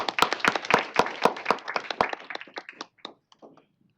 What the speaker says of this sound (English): let's give a round of applause to our officers